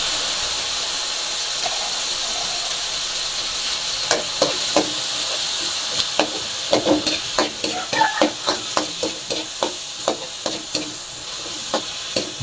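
Tomatoes added to a hot pan for ginataang tilapia, sizzling and frying under a run of sharp stirring scrapes and clanks that grow busier and louder midway.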